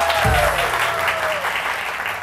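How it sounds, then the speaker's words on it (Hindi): A studio audience applauds for the girls on a weekend television show, steady crowd clapping with a sliding tone and a voice briefly underneath. "तालियां हो जाए लड़कियों के लिए बहुत सारी"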